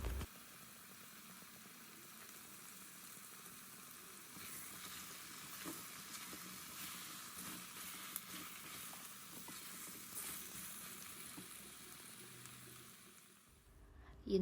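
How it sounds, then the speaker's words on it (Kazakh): Chopped pumpkin fries in oil with salt in a pan for a cream soup, giving a soft, steady sizzle that carries on alone at low level for the whole stretch. "тұз қосамыз және 5-6 минут қуырып аламыз"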